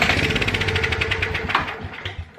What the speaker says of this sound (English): It started on that first pull with some